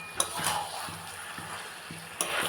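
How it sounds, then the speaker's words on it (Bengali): Chicken stir-fried in spices in a pan, a soft steady sizzle with rhythmic scraping strokes and a couple of sharp utensil knocks. "আর এই যে বন্ধুরা এখন কষাচ্ছি।"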